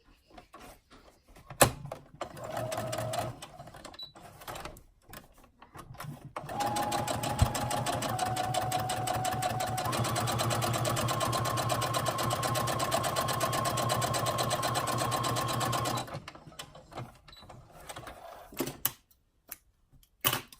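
A sewing machine basting cut fabric pieces runs in a steady, fast, close mechanical whir for about ten seconds, with shorter bursts of stitching before and after.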